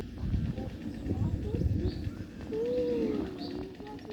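Small black birds at a zoo in Germany, a soft cooing note and a few faint chirps, over steady background noise and some low voices nearby.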